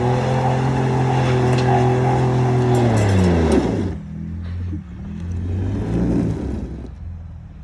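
A Ford Raptor truck driving off-road through snow, its engine droning loud and steady before the pitch drops and the rumble settles lower.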